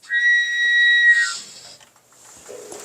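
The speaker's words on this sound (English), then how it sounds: "So it sounds like when the gas is coming out full force." Gas rushes out of a flexi line as the valve is opened on a blue flame heater, giving a loud, steady, high whistle for about a second that breaks into a softer hiss.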